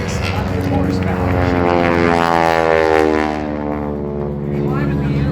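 Propeller aerobatic airplane of about 600 horsepower flying a display at an international airshow, a loud steady engine drone with harmonic whine sustained throughout, while an announcer's amplified voice talks over it.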